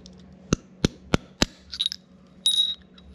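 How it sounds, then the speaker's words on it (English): A metal shaft with a round end hammers a bearing out of a 12-speed Shimano Deore Micro Spline bicycle hub: four sharp, close metallic strikes at steady intervals, followed by fainter clinks and scraping. "I will use a shaft, something like this, with round end, and put it at the tip there and just hammer it out"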